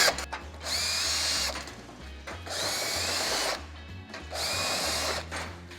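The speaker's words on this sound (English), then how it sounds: "I'm just gonna countersink these a little bit, make the burrs go away." A power drill countersinks burred holes in metal, whining in three separate runs of about a second each, with short pauses between them, close and loud.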